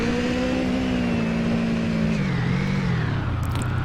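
A vehicle engine in a video game runs steadily and then revs, the pitch sliding down slightly before settling, a constant close drone with no talking over it.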